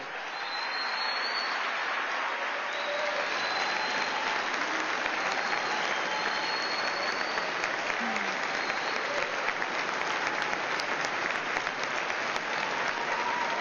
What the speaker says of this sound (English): Another time I could have cut the applause.